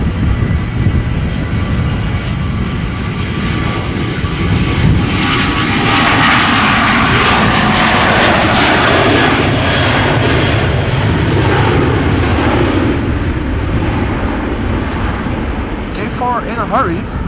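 A KLM airliner, flight 1185, roars loud and steady at Schiphol Airport, its jet engine noise swelling and holding across the whole stretch, with no talk over it.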